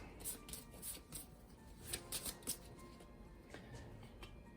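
Arkham Horror 3rd Edition board game cards are shuffled in several quick, soft riffles and flicks. The sound is close but quiet, with no talking over it.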